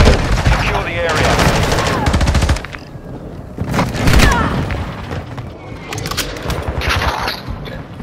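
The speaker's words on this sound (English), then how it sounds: "Friendly precision air strike is bound." Precision air strike explosions and rattling gunfire in Modern Warfare 2, with dense bursts of blasts and automatic fire coming in waves over several seconds. Loud and close, with a voice speaking under the battle noise.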